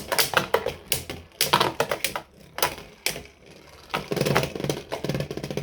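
Beyblade Burst Surge tops, including Infinite Achilles A6, spinning and clashing in a plastic stadium, a dense run of rapid rattling clicks and knocks in bursts, close and loud, with brief lulls between flurries.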